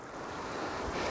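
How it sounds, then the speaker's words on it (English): White water surging and breaking over rocks on the Cornish coast, a steady close wash of surf with wind noise and no distinct individual wave crashes. "just a nice bit of white water, just breaking on these rocks."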